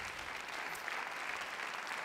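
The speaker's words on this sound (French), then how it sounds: "Vous applaudissez le Celsia," An audience claps steadily at a wine awards ceremony, honouring a restaurant nominee, with dense, even applause that holds for the full two seconds without voices over it.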